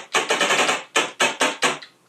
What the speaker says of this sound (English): That's a snare, kind of a white noise snare.